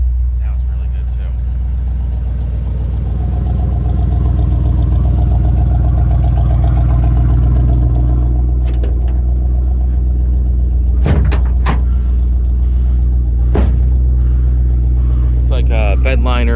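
A restored 1974 Ford Bronco Sport half cab with a 302 V8 and C4 automatic idles with a steady, loud, deep rumble throughout, with a few sharp clicks and knocks near the end and voices talking over it.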